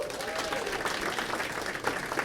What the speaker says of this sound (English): Clap your hands if you've been to a comedy show before